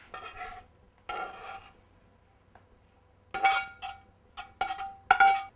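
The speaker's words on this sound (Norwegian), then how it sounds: "Så tar vi opp i det vi har stekt, kylling og bacon." Fried chicken and bacon stirred into pasta with olive oil in a bowl, giving several short bursts of clinking utensils and scraping against the bowl, close and fairly loud, with quiet gaps between.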